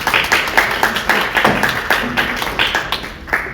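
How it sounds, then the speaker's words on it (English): Audience applauding at a public meeting on a solar project, a dense stretch of steady clapping with scattered sharper claps, fairly close and loud, with no talk over it. "Let's hold the applause so everybody will get an opportunity to speak"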